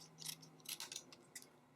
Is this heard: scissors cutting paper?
yes